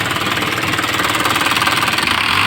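An Isuzu 4HF1 diesel engine runs steadily up close, a loud, even, rapid knocking clatter with no pauses.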